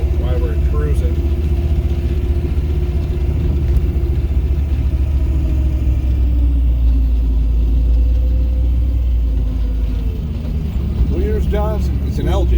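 A Ford Explorer with a swapped-in V8 and 1-ton axles crawls along a snowy trail during a wheeling run, its engine a steady loud low rumble with mechanical clunks throughout, while voices talk over it.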